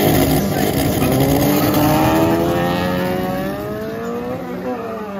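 A VW Passat in a race, engine accelerating hard up through a rising rev sweep, loud and close, the roar easing slightly toward the end.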